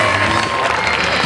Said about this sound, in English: how about one more big round of applause for Mishka,